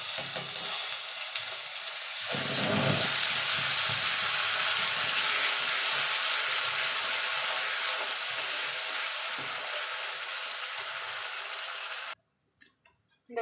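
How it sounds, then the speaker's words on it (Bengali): Spice tempering and masala frying in hot oil in a pan for a Bengali shankar fish curry, a loud steady sizzle that surges as the masala goes in, then holds, ending abruptly. "ফোড়নটা একটুখানি ভাজা ভাজা করে নেব।"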